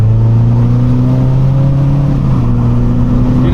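A BMW 535d diesel car accelerates hard on a B road, its engine drone rising steadily and loud throughout, with a brief shift in tone partway through as it keeps pulling.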